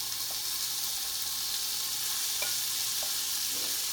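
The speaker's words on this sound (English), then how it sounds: "I've got my bacon going. I'm going to get my mushroom and onion going" Bacon, mushroom and onion sizzling together in a pan, a soft, steady hiss with a few faint pops and clicks and no voices.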